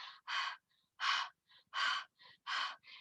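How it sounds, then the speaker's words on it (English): Quick, heavy breaths in and out, about ten in three seconds, each a short rushing puff with brief pauses between, close and fairly quiet. "Okay, let's listen to how we're breathing."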